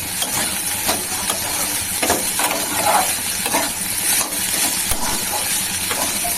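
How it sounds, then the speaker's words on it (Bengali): Vegetables frying in a pan for a vegetarian meal, a steady close sizzle with scraping stir strokes running throughout, loud and alone without talk. "এটাকে একটু ভাজি"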